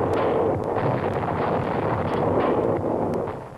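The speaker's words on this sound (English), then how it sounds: "Another blockbuster heads for the target." An RAF blockbuster bomb strikes the German battleship Tirpitz, a heavy, rumbling blast that roars broadly and steadily for several seconds before tailing off, with no voices.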